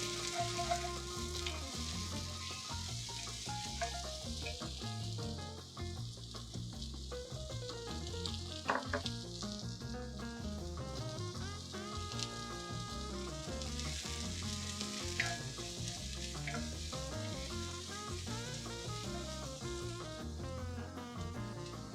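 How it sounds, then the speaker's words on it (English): Garlic fries in a pan for a pepper and mushroom étouffée, giving a continuous, even sizzle at moderate volume with no voices over it. "Burning my garlic."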